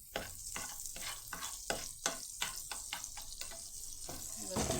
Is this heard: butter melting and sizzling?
yes